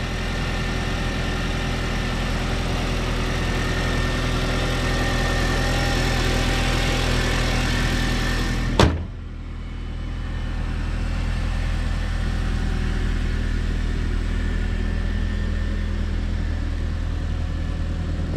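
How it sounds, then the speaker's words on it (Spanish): A 2002 Volkswagen Jetta engine idles steadily and close by, a constant low rumble broken once midway by a sharp click, after which the idle settles slightly quieter. "Ahí está encendido para que oigan el motor cómo se oye."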